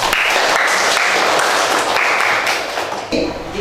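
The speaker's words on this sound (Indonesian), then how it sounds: "Oke, tepuk tangan." A classroom of students claps together, a loud burst of applause that holds steady and then tapers off near the end.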